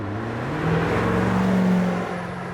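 A 2021 Chevrolet C8 Corvette accelerating out of a corner, a smooth rising engine tone that swells, holds, and eases off, heard steadily from inside the car.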